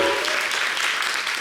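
A studio audience gives a dancer a warm ovation, steady and fairly loud applause that fills the whole short moment without any break.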